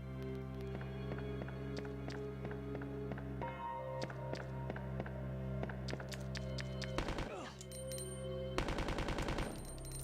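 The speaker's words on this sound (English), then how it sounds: "we've got the machine gun now" Rapid machine-gun bursts in Resident Evil 2, sharp repeated shots in quick rhythmic volleys with short pauses between, loud and close, with no talking.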